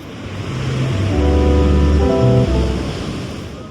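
Ocean surf rolling onto the shore at Nazaré, Portugal, a loud continuous wash of breaking waves close by, with a faint steady tonal hum running beneath and no talking.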